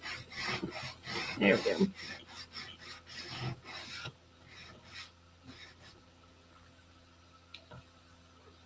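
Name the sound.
sanding a wooden craft piece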